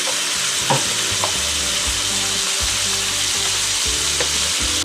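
Meat frying in butter in a skillet, a loud, dense, continuous sizzle close up with occasional stirring bumps.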